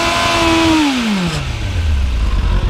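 A motorcycle engine fitted with an exhaust baffle revs hard at full throttle, its loud tone then falling steadily as the revs drop back toward idle, close and continuous.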